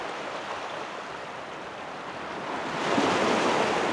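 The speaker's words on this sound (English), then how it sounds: "I am noticing some waves hitting some rocks." Continuous wash of sea waves breaking against rocks in a bay at sunrise, steady and fairly close, swelling slightly toward the end with a low rumble of wind.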